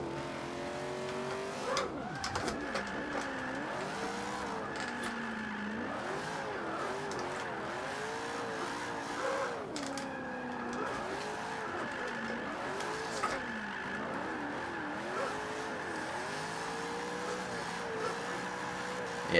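BMW E36 drift car in Forza 5, driven with a Thrustmaster TX wheel: a steady engine whine rises and falls as the revs climb and dip through repeated drift passes, with tire squeal, loud and continuous with no talk.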